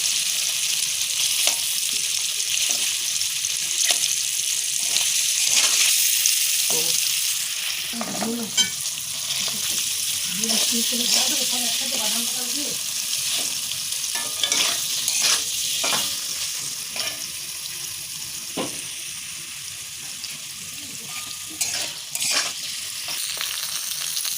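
Paneer frying in a kadai with a steady, close sizzle throughout, broken by occasional stirring scrapes and clinks of a utensil, with no voices.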